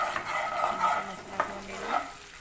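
Ground tomato paste and spices fry in a pan for an Assamese-style egg curry, giving a soft sizzle with scraping strokes of a spatula stirring at close range.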